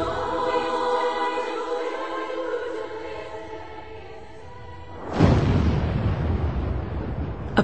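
A loud explosive squib bursts from the heavily reinforced sky lobby band of the World Trade Center, a sudden broadband blast after several seconds of steady rumbling noise, followed by sustained roaring debris noise.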